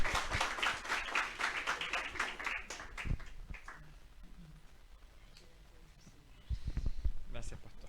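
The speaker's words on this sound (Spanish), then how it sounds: "le vamos a recibir con un fuerte aplauso" A church congregation at a family conference welcomes a pastor to the stage with brisk, close applause that fades after a few seconds, followed by quieter scattered claps and murmuring.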